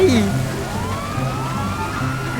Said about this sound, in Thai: ฝนมันตก รถตำรวจตามมาเต็ม